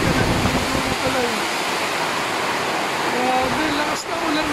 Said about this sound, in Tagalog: Grabe, lakas ng ulan bigla